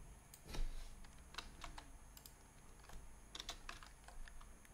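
Someone types on a computer keyboard while setting up Font Awesome in a Laravel and Vue project. Irregular key presses come in close, quiet bursts, with no talking.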